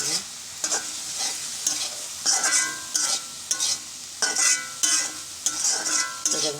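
Leafy greens fry in a pan while a spatula stirs and scrapes them in a steady rhythm. A bright, continuous sizzle swells with each stroke, close and loud, with no voices.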